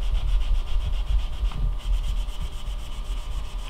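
Sandpaper rubs paint off the corners of a painted wooden furniture piece in a continuous, loud, close scratchy sanding, with no speech.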